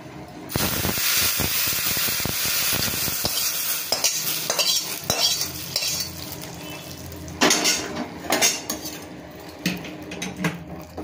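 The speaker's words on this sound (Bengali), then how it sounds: "এবার আমি এটা ডালের মধ্যে ঢেলে দেবো" Hot cumin and dry chilli tempering poured into masoor lentil dal, a loud sputtering sizzle and hiss followed by clinks and scrapes of utensils against the pot, close and busy without speech.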